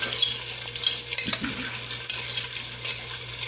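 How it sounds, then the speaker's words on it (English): Italian sausage frying in a pot for tomato and rice soup, giving a steady soft sizzle with light stirring and a spoon scraping now and then, close and continuous with no talking. "I'm going to go ahead and put this Italian sausage right in here."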